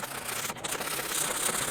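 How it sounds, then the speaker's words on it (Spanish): Coarse sandpaper rubs against a plastic container in steady back-and-forth strokes, a continuous close, loud scratchy hiss with no talking. "Para que me agarre bien el pegamento o el sellador, es que le voy a dar una lijadita"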